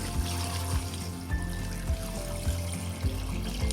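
Water poured into a cooking pot with garlic and salt while preparing a trotters broth, a soft continuous trickling and splashing with faint rhythmic knocks, fairly quiet and alone.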